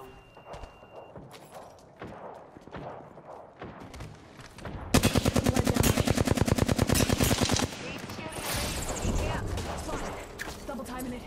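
Apex Legends gunfire: scattered shots and thuds give way to a loud, rapid burst of automatic fire lasting a few seconds, followed by more distant shooting and movement, with players talking over it.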